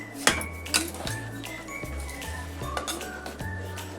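Rice being stirred and sautéed in a pan gives a few sharp metallic clinks of a utensil against the pan at irregular intervals, over steady background music.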